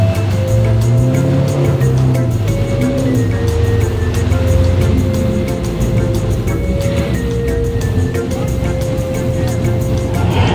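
A Lamborghini Aventador Roadster's engine roars loudly and continuously at close range among buildings at a shopping mall, a deep sustained rumble with rising and falling revs and no talk.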